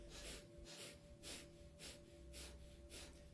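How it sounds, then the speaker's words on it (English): Breath of fire in a Kundalini breathwork session: quick, forceful rhythmic nasal exhalations, about two per second, close and steady over a faint sustained background tone, with no talking. "It's called breath of fire. And it's a rhythmic breathing in and out through the nose."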